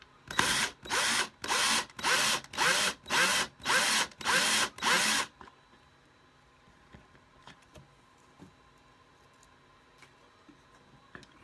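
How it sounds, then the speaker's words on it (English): A power drill drills partway into a taped-off piece during an arc reactor prop build, whirring in eight short, evenly spaced bursts, loud and close, then stops, leaving quiet room noise with a few faint clicks. "I'm going to go ahead and drill a little bit more"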